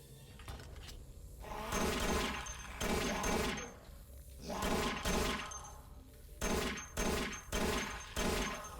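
Repeated gunfire in the VR shooter Dead Effect 2 as a zombie is shot, heard as several loud bursts of shots in clusters with brief pauses between them.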